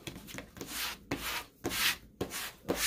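Adhesive vinyl is burnished onto a foam board with a tool in repeated rubbing strokes, about five close, scraping swipes in a steady back-and-forth rhythm, alone without talk.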